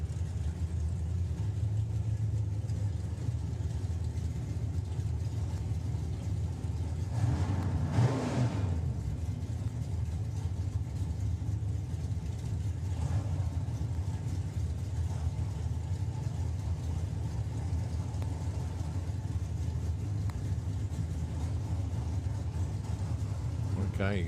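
At a drag strip, a Chevy pickup lines up alongside a PT Cruiser: a loud, continuous engine roar with a brief surge midway, heard under a commentator's talk.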